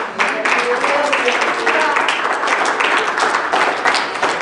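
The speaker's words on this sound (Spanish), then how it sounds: "Dele el aplauso a Dios." Church congregation clapping in praise during a Spanish-language sermon, a dense, steady round of applause filling the room with some voices mixed in.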